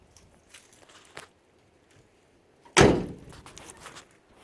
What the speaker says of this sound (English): Door shuts nice.